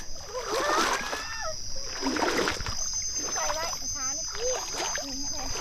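Water splashes and sloshes as someone wades across a forest stream while foraging for bamboo shoots, steady close splashing under a man's speech running over most of the stretch.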